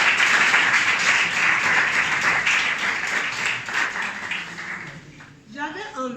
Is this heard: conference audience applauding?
yes